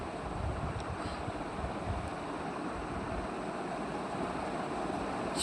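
Garlic sizzles in hot oil in a kadhai, a phodni tempering for a quick spinach bhaji, giving a steady, even hiss and crackle throughout with no talking.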